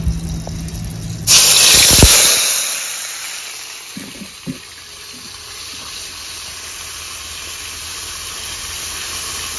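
Spice paste hits hot oil in a pan for a Bengali brinjal and koi fish curry, bursting into a loud, close hissing sizzle that gradually settles into a steady, quieter fry with a few faint clinks.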